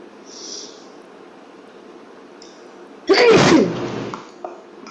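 A single sharp sneeze bursts out loudly and close by in a math class after a few seconds of quiet room tone, followed by faint shuffling.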